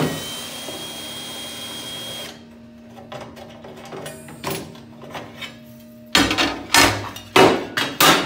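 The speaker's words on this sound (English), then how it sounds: "I'm going to go ahead and pull these screws out." A power drill backs screws out of an aluminium boat. A steady motor whine runs for about two seconds and then cuts off, followed by quieter handling noises and later several loud, sharp clattering knocks close by.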